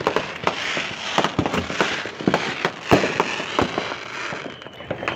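Many Fourth of July fireworks pop and crackle in quick irregular bursts, some near and sharp, others farther off, continuing throughout without talking.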